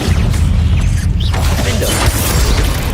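A Confringo spell blasts in Hogwarts Legacy, a loud dense rumble with crackling, debris-like bursts that fill the short moment with no talking.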